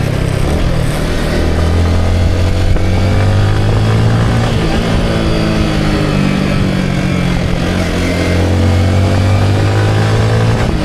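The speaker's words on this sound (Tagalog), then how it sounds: "Wala kayong problema tong motor na to?" A motorcycle engine runs steadily and loudly close by, its low droning note rising and falling slightly with throttle, continuous throughout with no clear talk over it.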